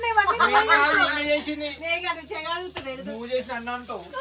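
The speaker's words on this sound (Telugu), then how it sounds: "ఆనియన్స్ ఇట్లా వేయాలి గైస్" Sizzling of onions added to a hot pan for chicken curry, a steady crackle running under lively conversation and laughter close by.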